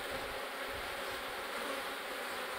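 Honeybees swarm agitated around their hive in stormy weather, a dense continuous buzzing hum, faint but steady throughout with no talk.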